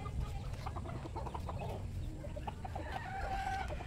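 Chickens clucking in a rural yard, several soft overlapping clucks and calls at moderate distance over a low steady background rumble.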